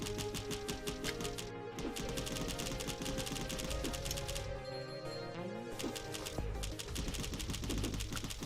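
Rockets firing in the game Cally's Trials, a rapid stream of sharp, clicky shots repeating steadily for several seconds, quiet and dense over game music.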